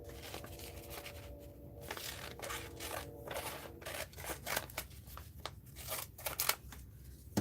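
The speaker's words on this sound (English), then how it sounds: "I'm going to cut this picture like this" Scissors snip out a paper picture in a mixed-media art journal session, a run of close, crisp cuts with small rustles between them, quiet and without talk.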